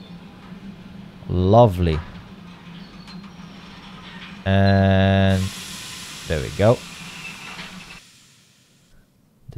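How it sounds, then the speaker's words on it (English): A train in the railway simulator game Derail Valley rolls in and halts: a low steady rumble, one sustained tonal horn-like blast, then a long hiss of released air that fades out, while someone talks briefly before and after. "The train has stopped."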